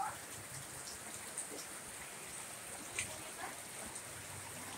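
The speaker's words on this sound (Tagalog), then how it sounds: "Sige pang uwan." Heavy rain from a typhoon falls steadily as a constant hiss, with scattered drops and splashes standing out now and then. No voices are heard.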